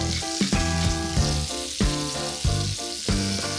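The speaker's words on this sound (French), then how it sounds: "le temps que nos petites aiguilles de volaille sont en train de colorer" Chicken strips browning in a pan with curry paste, a steady loud sizzle with rhythmic clunks and scrapes of stirring every half second or so.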